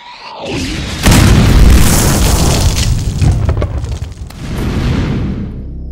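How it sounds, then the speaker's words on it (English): A loud explosion sound effect played as a joke nuclear detonation opens with a sharp blast, then a heavy rolling boom that rumbles and slowly fades over several seconds. "A high altitude nuclear detonation, an EMP."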